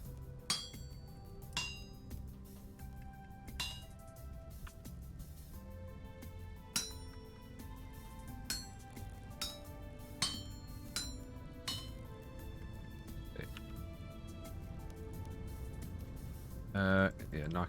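Hammer smithing in the Vintage Story game: a series of bright metallic clinks strike at a slow, irregular rhythm, moderately loud, ringing briefly over a soft background while a person talks.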